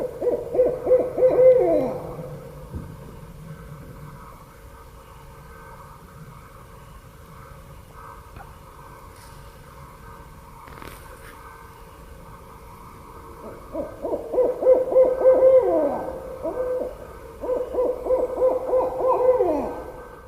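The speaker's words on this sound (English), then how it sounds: "The barred owl makes a hoot sound like this." A barred owl calls in two bursts of rhythmic, rolling hoots, at the start and again near the end, with a quiet stretch between and a faint distant hum in the background.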